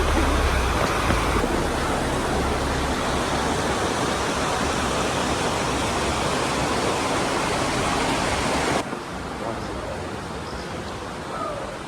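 Rushing river running beside a house in the Pyrenees, a loud, steady broadband roar of churning water that drops to a quieter level near the end, with no talk.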